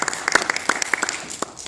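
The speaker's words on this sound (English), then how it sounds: "Let's give Professor Tochon our first applause first" Audience applause at a university ceremony honoring a professor, with scattered hand claps forming a brief, moderately loud burst that continues steadily without speech.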